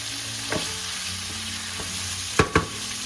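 Vegetables for Filipino chop suey sauté in a hot pan with a steady broadband sizzle, a few soft spatula scrapes, and two sharp louder clanks near the end.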